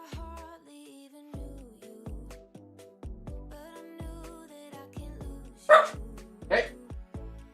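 A dog barks twice in quick, loud bursts near the end, indoors during a livestream, cutting through background music with steady plucked notes while someone talks nearby.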